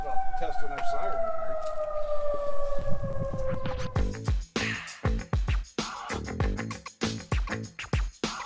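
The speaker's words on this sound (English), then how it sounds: "Pretty serious about testing our siren here." A civil defense siren wails with a steady, slowly falling tone for about four seconds, then stops as choppy, percussive clatter and noise take over.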